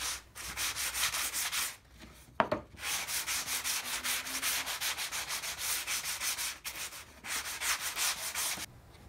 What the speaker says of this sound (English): I'm going to just take a piece of sandpaper and clean up all these edges